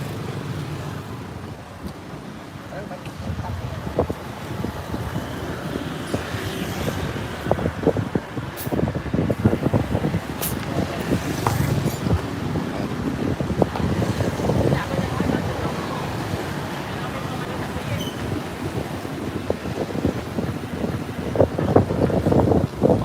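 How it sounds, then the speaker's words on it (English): Strong, gusty wind roars steadily against the microphone outdoors, a dense low rumble with buffeting bursts that persists for the whole stretch, with no talk. "I've honestly never seen it this windy before."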